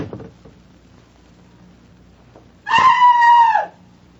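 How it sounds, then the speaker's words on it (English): A woman screams loudly inside a closed bathroom, a single sustained high shriek of about a second following a quiet stretch with faint rustling. "Betty, would you mind going back into the bathroom and closing the door behind you? Then scream as loudly as you can."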